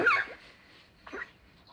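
A short, muffled cough at the start, then a fainter second one a moment later, heard close with quiet room noise between.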